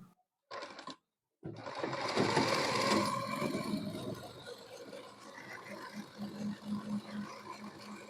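A sewing machine stitches a men's shirt: a short burst, a brief stop, then a long steady whirring run nearby with a faint rhythmic pulse toward the end.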